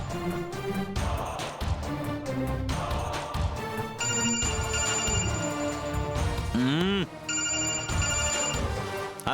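A telephone ringing during a phone call in a Telugu TV serial scene, with a repeating electronic ring tone over a dense, music-like background.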